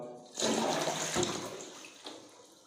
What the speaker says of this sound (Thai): กดชักโครกครับ